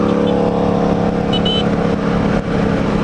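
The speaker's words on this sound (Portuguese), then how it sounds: "é MT-07 ele também o seu som característico" A Yamaha MT-07 motorcycle engine rumbles loudly and steadily up close, with a rough idling throb that dips briefly near the end.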